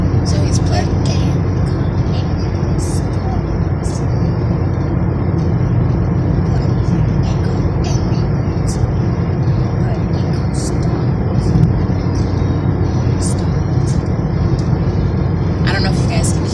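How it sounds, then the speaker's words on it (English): Loud, constant road and engine rumble fills the interior of a moving car for the whole stretch, a steady low roar with faint voices talking beneath it. "This car's so loud."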